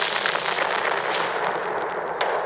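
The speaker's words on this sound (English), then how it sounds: "The blast ignites the remaining stockpile of ordnance." Continuous dense roar of rapid crackling blasts, like a stockpile of ammunition going off, with a sharper burst standing out near the end.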